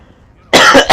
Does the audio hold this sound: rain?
no